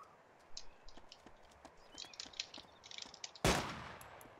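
In a zombie survival game, a single sharp gunshot lands as a headshot, loud and sudden after a stretch of faint clicking and ambient noise.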